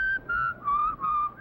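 A man whistling a tune in short clear phrases, four sustained bright notes with brief gaps, close and alone.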